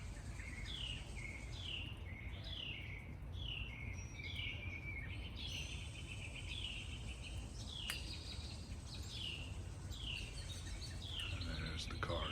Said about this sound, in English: there's just a variety of birds in the trees